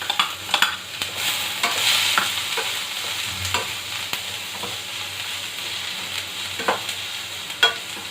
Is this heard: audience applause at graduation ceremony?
no